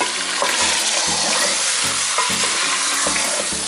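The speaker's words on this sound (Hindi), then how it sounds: "हम इसको फ्राई करेंगे" Chicken pieces sizzling and frying steadily in a pan for Shinwari chicken, a loud continuous crackle with occasional stirring scrapes and no speech.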